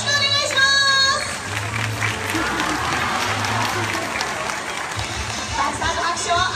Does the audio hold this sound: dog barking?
no